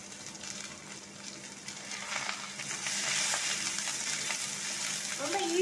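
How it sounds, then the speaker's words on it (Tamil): Sliced onions and curry leaves hitting hot oil in a pan of mutton masala, a steady sizzle that swells louder partway through and keeps frying with faint stirring. "இப்போ இந்த பேலன்ஸ் இருக்க வெங்காயத்தையும் இதில் போட்டுருங்க, அது கூட கருவேப்பிலையும் சேர்த்துடலாம்."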